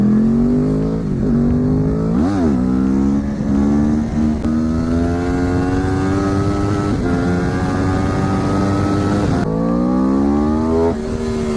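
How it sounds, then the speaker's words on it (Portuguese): A Yamaha crossplane motorcycle engine with an uneven, throbbing beat revs up and holds a climbing pitch, echoing loudly in a tunnel, with no talking. "vocês também já devem ter ouvido falar do motor Crossplane da Yamaha, que tem esse som aqui"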